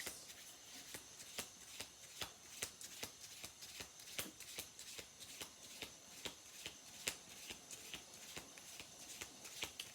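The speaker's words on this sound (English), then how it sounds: "I'm going to do 2 more shuffles just to see if I can get anything else." Rapid rhythmic riffling of tarot cards being shuffled, repeated bursts of crisp flicks at a steady pace, close and quiet with no voices.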